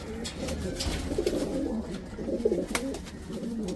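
Soft, low cooing from an ice pigeon, repeated in murmuring phrases at close range over a faint background, with some nearby talking mixed in.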